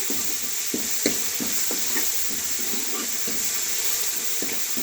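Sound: coriander roasting in a pan

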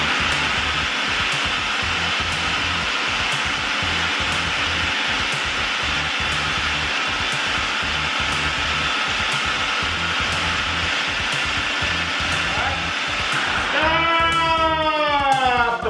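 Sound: food processor making salsa

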